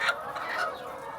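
Farm chickens cluck and call from a poultry flock, a short burst of bird voices at moderate distance with a few overlapping squawks, no talking.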